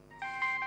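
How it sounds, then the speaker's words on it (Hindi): An electronic phone ringtone of steady warbling tones with repeated pulses, close and clear, heard alone. "बजा बजा, आपका फोन बजा।"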